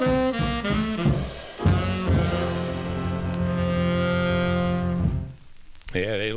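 A doo-wop record plays with harmonized vocal group singing and sustained backing chords, ending abruptly before a short burst of other sound.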